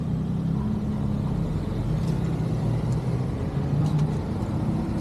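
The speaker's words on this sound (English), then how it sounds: "The bus is right behind you" A bus idling or rolling nearby on a street in Praia do Campeche, Brazil, a steady low engine rumble with broadband road noise, fairly loud and continuous.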